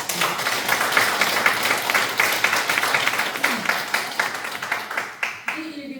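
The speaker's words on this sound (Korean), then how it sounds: "일단 박수 한번 쳐주세요." Audience applause at a Won Buddhist temple service, a dense wash of clapping that fades and thins toward the end, with a voice breaking in near the close.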